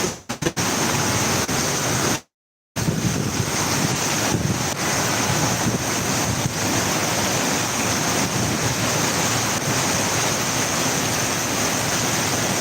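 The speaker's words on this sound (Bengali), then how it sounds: "বৃষ্টির সাথে হালকা বাতাস হচ্ছে" Heavy rain driven by gusty wind in Dhaka, a dense, steady roar with wind buffeting the microphone throughout, broken by a brief dropout near the start; no voices.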